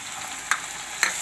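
Tomatoes added to a frying cauliflower and pea gravy: a steady hot sizzle throughout, broken by two short scraping stirs, close and alone.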